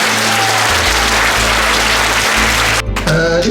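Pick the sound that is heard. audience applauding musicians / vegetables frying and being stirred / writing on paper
audience applauding musicians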